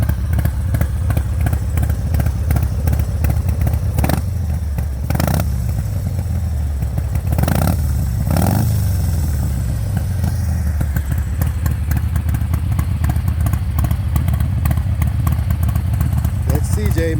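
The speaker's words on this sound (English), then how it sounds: "Now I'm gonna rev it up for y'all." A 2021 Harley-Davidson Softail Heritage Classic 114 fitted with a Chris Rivas 464 cam revs up from idle, loud and close, with a few sharp throttle blips rising over a steady lumpy rumble and a voice talking over it.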